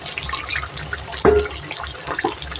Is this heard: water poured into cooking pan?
yes